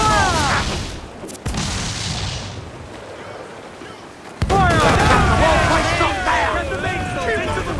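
Naval cannon fire in Assassin's Creed IV Black Flag during a ship battle on open water: heavy booms and rumbling blasts with surf and creaking in the background, with shouting crew voices throughout.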